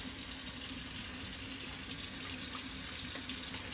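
Water runs in a steady, faint, unbroken flow during printhead cleaning on an HP DesignJet printer, with no voices over it.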